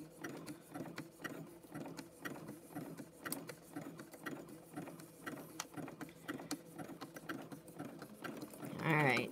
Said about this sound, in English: let your sewing machine hang off the edge of your table and let your bowl, you know, hang off as you're sewing